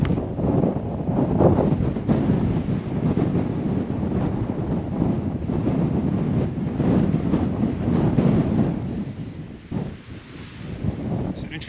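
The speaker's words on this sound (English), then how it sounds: "I think it's a little too windy to do that." Strong wind on a mountain buffets the microphone, producing a loud, continuous low rumble with gusty surges that ease briefly near the end.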